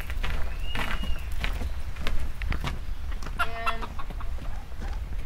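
Ducks, one white and one brown, at a British manor house grounds, giving a few short quacks and clucking calls over outdoor background noise, fairly near, with a sharper burst of calls late on.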